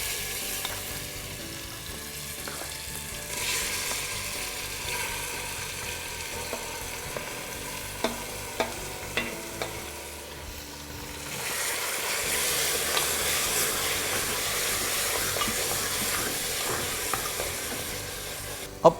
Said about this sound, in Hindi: मटन को हमें भूनना है कम से कम 15 से 20 मिनट